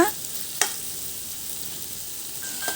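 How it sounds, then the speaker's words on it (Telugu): Bottle gourd pieces frying in hot oil for sorakaya pachadi, giving a steady, close sizzle with a couple of brief spatula clicks, continuous and even with no talking. "దీనిని కూడా 2 నిమిషాల పాటు ఫ్రై చేయాలి."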